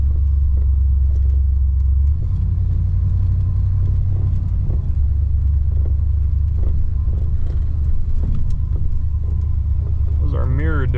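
A 1964 Oldsmobile 98 being revived on a low budget and driven: a loud, steady low engine rumble with road noise throughout, and a gear shift near the end as someone talks over it.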